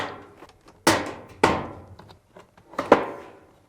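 Plastic top panel of a Fisher & Paykel clothes dryer being unclipped from its locking tabs, giving three or four sharp, close knocks and clunks with a few lighter taps between them and no talk.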